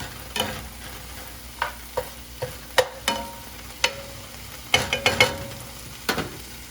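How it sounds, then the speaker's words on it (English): A utensil stirring breakfast food with black beans in a pan over a medium flame: irregular scraping and clacking strokes, about a dozen distinct hits, over a soft background sizzle, with no talking. "while that's cooking, I'm gonna mix it up a little bit"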